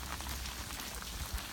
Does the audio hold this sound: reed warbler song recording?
no